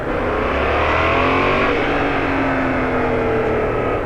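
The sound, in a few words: Yamaha MT-07 motorcycle engine braking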